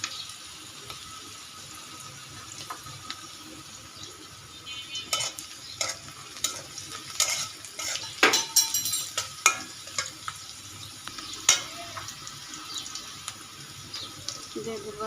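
Ground spice paste of cumin, garlic and ginger frying and being stirred in a pan while cooking rui fish with bottle gourd, giving a steady sizzle broken by scraping, clinking stirs and a few sharp taps.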